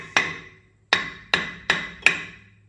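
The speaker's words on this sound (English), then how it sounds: "just take a 4-pound hammer or any kind of hammer. You wanna tap lightly around all 4 edges." Five sharp metallic taps from a hammer striking a seized brake rotor on a Chevy Silverado, each ringing briefly, spaced a little unevenly and heard up close.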